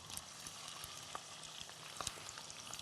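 Shrimp cooking for gambas in simmering oil in a cast iron pan: a soft, steady sizzle with scattered small pops and crackles, quiet and continuous, with no voices.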